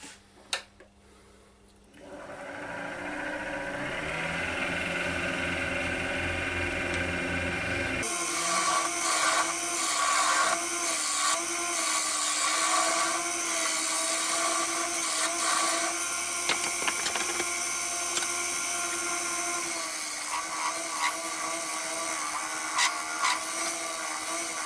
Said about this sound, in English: Just dug it out with the spindle gouge